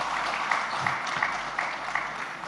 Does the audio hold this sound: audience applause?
yes